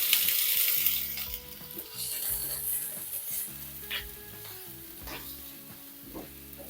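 Grated onion sizzles steadily in hot oil for an omelette, a bright continuous crackle with occasional stirring scrapes and clinks of a utensil against the pan, no voices.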